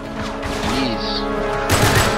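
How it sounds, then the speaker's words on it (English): Gunfire from the video game Uncharted 3: Drake's Deception comes in rapid bursts over dense game music and effects, loud and busy, ending in a sharper clatter of shots. "Yeah, burst fire."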